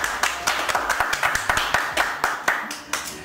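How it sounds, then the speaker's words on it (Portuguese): Guests at a wedding clap for the couple, with a handful of distinct, fairly close claps in an uneven rhythm rather than a dense ovation. "Vamos dar uma salva de palmas para eles"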